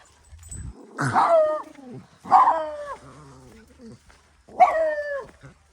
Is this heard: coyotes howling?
yes